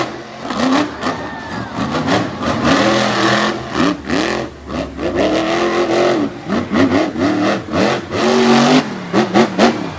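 Chevrolet C10 truck engines roar and rev at a TN/GA state line racing event, a loud, continuous wavering drone of several motors rising and falling in pitch with no break.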